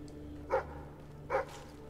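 Dog barking in the video game Fable 3, two short faint barks spaced under a second apart over a quiet background hum.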